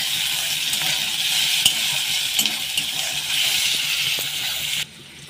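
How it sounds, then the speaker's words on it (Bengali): Chopped onion with salt sizzles steadily in a hot pan with occasional stirring scrapes, loud and close, no talking, cutting off abruptly near the end. "এবার পেঁয়াজ কুচি দিয়ে দেবো। পেঁয়াজে লবণ দিয়ে দেবো।"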